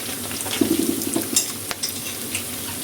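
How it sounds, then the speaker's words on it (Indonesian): Pempek fish cakes frying in hot oil, a steady close sizzle with light scraping and stirring of the pan over it. "Kita goreng pempeknya sampai matang, sampai berwarna kuning kecoklatan."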